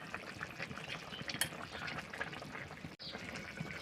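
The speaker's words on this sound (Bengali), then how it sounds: "ঝোলটা আমার ফোটা শুরু হয়ে গেছে। এখন এখানে আমি দিয়ে দেব মাছ, ভেজে রাখা মাছগুলো দিয়ে দিচ্ছি।" Curry gravy simmers in a pot with fried jatka (young hilsa) fish, potatoes and tomatoes, giving a faint, continuous soft bubbling and sizzle with no talk.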